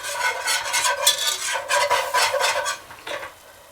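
Flour and melted butter whisked together in a pan, a close, continuous scraping and rasping of whisk on metal in quick uneven strokes, fading out near the end.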